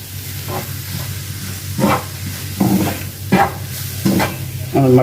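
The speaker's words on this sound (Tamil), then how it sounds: "அது கூட நல்லா வதக்குங்க" Prawn masala with garam masala sautéing in a pan over a lowered flame, a spatula scraping and stirring in irregular strokes over a soft steady sizzle, close and moderately loud.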